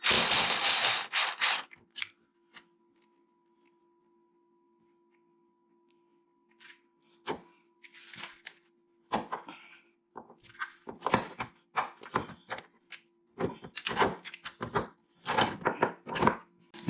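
Ratchet wrench working loose the starter bolts on a Ford Mustang during transmission removal, heard as bursts of quick clicking after a near-silent gap, the ratcheting strokes growing more frequent toward the end with no talk.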